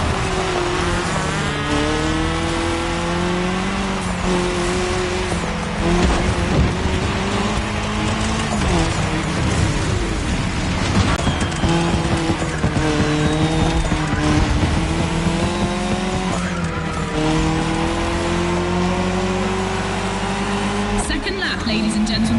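Race car in a cross-terrain racing video game driving on tarmac through a tunnel, engine droning steadily with rising and falling pitch as it shifts, tires squealing at moments, loud and continuous with music-like tones underneath.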